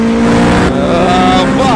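Porsche engine sound in a mobile video game, a loud steady engine drone with rising harmonic tones near the end, heard under game effects and voices.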